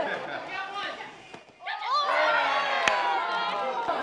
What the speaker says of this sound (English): It's a very enthusiastic crowd here today.